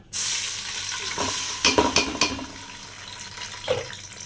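A ground paste of ginger, garlic and shallots hits a hot pan for chicken curry with a sudden loud sizzle. A hiss continues under several sharp stirring scrapes, then fades; no speech.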